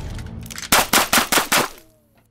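Guns fire in a staged firing-squad scene, five sharp loud shots in quick even succession after a low rumble, then a quiet tail.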